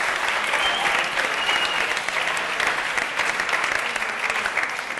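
A studio audience at a Catalan quiz show claps together in a steady, dense burst of applause that holds evenly for the whole stretch.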